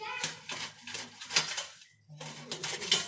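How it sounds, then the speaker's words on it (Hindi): A peeled bottle gourd is rubbed against a metal kitchen grater in quick, rhythmic rasping strokes up close, with a brief pause midway before the strokes resume. "सबसे पहले हम लौकी को कद्दूकस कर लेंगे।"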